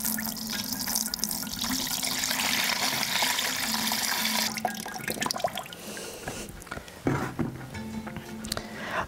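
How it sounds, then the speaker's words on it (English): Rice wash water, left over from rinsing rice on a farm for a fermented organic fertiliser, is poured into another bucket as a continuous rushing splash that thins out into irregular trickles and drips. "I simply pour the rice wash into another bucket."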